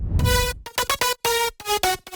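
Dry synth lead for future house, buzzy and bright with no effects, playing a short choppy phrase of sustained notes cut by abrupt gaps after a brief noisy intro, alone and fairly loud.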